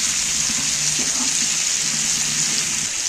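Chicken pieces fry in a pan, Bengali village-style, giving a steady, even sizzle of hot oil at close range with a few faint clinks underneath; nobody speaks.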